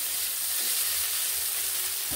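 Onions mixed with salt and turmeric fry in a pan, giving off a dense, even hiss of sizzling oil that holds steady and close throughout, with no voices.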